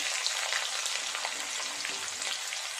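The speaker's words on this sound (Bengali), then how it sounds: "ফোড়নটা ভাজা হয়ে গেছে, দিয়ে দেবো পেঁয়াজ কুচি" Chopped onion sizzling steadily in hot oil after the spices are fried, a dense, continuous hiss that stays loud and even throughout with no talking.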